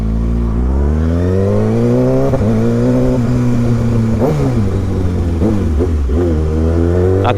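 A Kawasaki ZX6R motorcycle roars loud and close, its engine note holding steady before rising and falling through several revs, with no talk over it.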